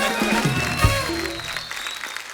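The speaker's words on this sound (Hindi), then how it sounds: "जोरदार तालियां करण और बिपाशा के लिए" Studio audience applauding Karan and Bipasha on a comedy talk show, a burst of clapping with music and a voice at first, then tapering off toward the end.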